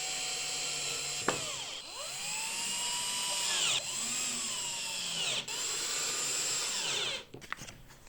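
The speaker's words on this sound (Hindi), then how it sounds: "एंड नाउ स्क्रूज़ लगेंगे।" A power drill drives screws into a wooden mini house lamp, its motor whining steadily and rising and falling in pitch across several runs, with brief knocks between them and a clatter at the end.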